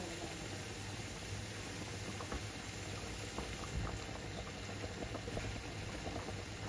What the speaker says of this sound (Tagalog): Pakukulong ko yan.